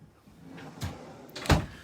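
Sub-zero drawer fridge freezers in the galley of a 2005 Hatteras 50 Convertible yacht, two soft, quick drawer movements about half a second apart, the second a sharper thud, heard fairly close in a quiet cabin.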